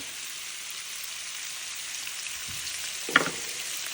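Shrimp sauté in a hot pan with a steady, soft sizzle, close up and unbroken, and one brief tap of a utensil near the end.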